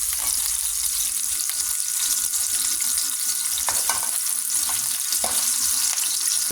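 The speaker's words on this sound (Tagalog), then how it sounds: "Pinirito ko na yung siling pula." Red chili peppers frying in oil in a pan for garlic fish with vegetables, a steady hiss of sizzling with occasional crackles and pops, close and continuous, no talk.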